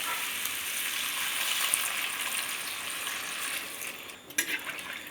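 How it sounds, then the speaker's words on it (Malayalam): Water poured into a pan of chicken frying for Palakkad-style ash gourd and meat curry, a steady loud sizzling hiss that shifts near the end as the pour hits the hot pan. "നമ്മൾക്ക് ചിക്കൻ വെന്ത് കിട്ടാനുള്ള വെള്ളം ഒഴിച്ചിട്ടുണ്ട്"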